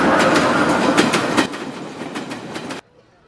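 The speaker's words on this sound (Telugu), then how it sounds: "వెనక ట్రైన్ పాస్ అయ్యే సౌండ్ వచ్చింది" A train rumbles past up close with rhythmic clickety-clack of wheels on rail joints, loud and steady, then cuts off abruptly near the end.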